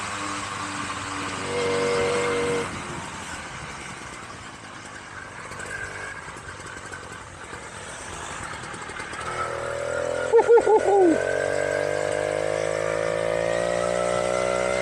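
A 1968 Clark Scamp, a rare British 49cc two-stroke moped, buzzes along country lanes with a steady, thin engine drone that climbs in pitch as it speeds up, wind rushing throughout.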